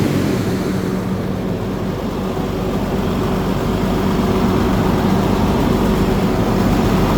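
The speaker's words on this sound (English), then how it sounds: "we're gonna rev it up for you so you can hear the engine" A 2014 Peterbilt 348 flatbed truck's engine runs with a steady, heavy low rumble that holds close and loud throughout, with little change in pitch.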